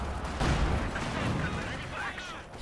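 LMG 42 machine guns firing amid a World War II strategy game battle, a dense continuous din of gunfire and booming artillery, with a voice talking over the fighting.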